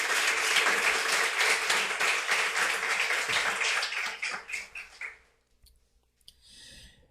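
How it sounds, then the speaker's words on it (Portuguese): A church congregation applauds during a sermon, brisk, dense clapping that runs loud for about five seconds, then thins into scattered claps and fades to near silence. "Dá uma salva de palmas para Jesus."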